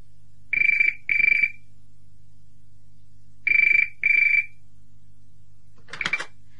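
A telephone rings in two paired bursts, each a bright electronic trill, with a short pause between the pairs and a brief clatter as the receiver is picked up at the end.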